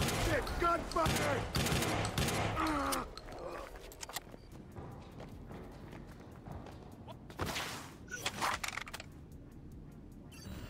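Rapid bursts of gunfire crackle in Watch Dogs 2, dense and loud at first and then scattered into sparser shots, with a few more sharp volleys later.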